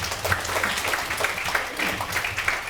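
Audience applause at a public deliberation forum on a shopping complex, a steady wash of clapping filling the room as the next questioner is called up, with faint voices underneath.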